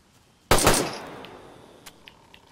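Gunfire in a video game: a short, loud burst of rapid shots rings out with a decaying echo, followed by a few faint distant clicks and pops.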